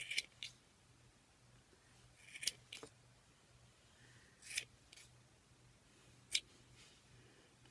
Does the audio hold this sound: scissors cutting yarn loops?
yes